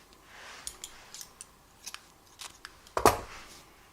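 Scissors cutting crochet yarn: a single crisp snip near the end, preceded by faint rustling and handling sounds, close and quiet.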